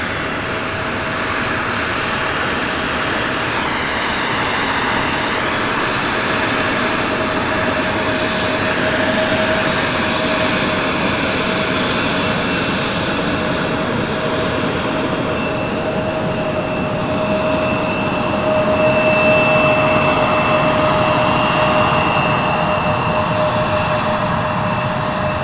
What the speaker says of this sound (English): The passenger jets are taxiing right here in front of us.